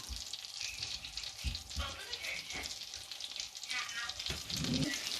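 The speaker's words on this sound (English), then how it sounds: "put it on the Basically fry them." Chocolate-filled bread fries in a pan with a soft, steady sizzle and light crackling, close but fairly quiet, with occasional stirring or handling noises.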